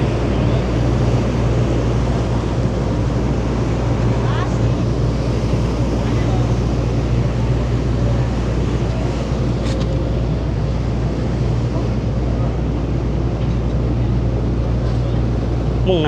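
Steady low rumble of a Chao Phraya Express passenger boat engine on the Chao Phraya River in Bangkok, with broadband water and wind wash, continuous and fairly loud throughout, no distinct voices.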